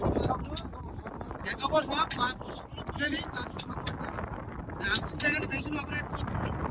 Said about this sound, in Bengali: একটু ঢেউ হচ্ছে, হাওয়া প্রচন্ড